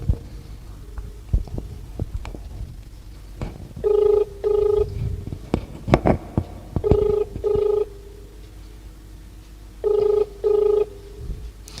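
A phone ringback tone pulses in paired beeps, repeating three times over rustling and handling noise, fairly quiet and close, as a mobile call is placed.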